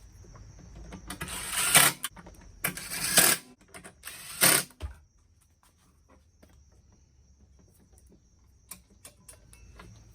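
A wrench ratchets in three short, sharp bursts of clicking while the oil dipstick bolt comes off a Briggs and Stratton engine on a Craftsman mower, followed by quieter handling noises.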